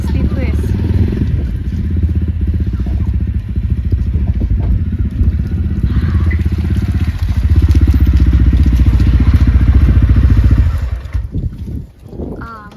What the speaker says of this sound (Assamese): বাইক আনিবই পৰা নাই স্লিপ হৈ আছে